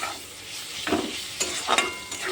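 Onions sizzling as they fry in a pan, a steady hiss broken by a few louder clattering stirs, close and fairly quiet, with no talk.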